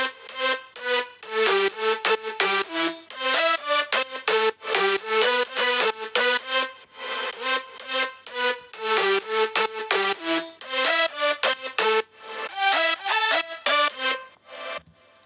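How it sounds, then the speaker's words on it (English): A future house lead layered from eight instruments out of a Liquid Bass Sylenth1 sample pack, playing a bright, busy melodic riff with pitch bends and steady rhythmic notes, loud and alone. "The leads are made up of 8 different instruments"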